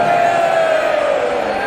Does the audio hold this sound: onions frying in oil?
no